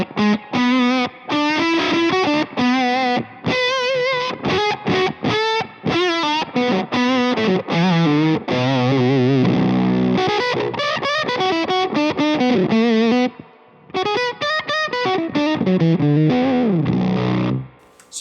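Electric guitar played through a Duelist overdrive pedal, with the Octoland set to zero gain, giving a gritty, saturated tone as chords and single-note lines ring out continuously and loudly, with only brief pauses.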